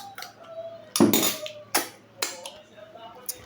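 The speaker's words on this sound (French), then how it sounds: "Vous mélangez bien." Spoon clinking and scraping as a homemade morning vitamin drink is mixed in a container: a few sharp clinks and knocks spaced over a few seconds, close and fairly quiet.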